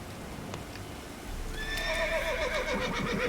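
Horse neighing in The Witcher 3: Wild Hunt, a loud, close whinny with a rising and falling whinnying trill over soft background ambience and faint hoof sounds.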